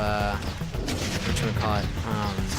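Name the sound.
Gatling guns firing in video game Sanctum 2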